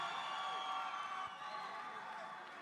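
At a fight night event, a crowd cheers and shouts in a steady, fairly distant roar that slowly eases off toward the end, with no clear voices standing out.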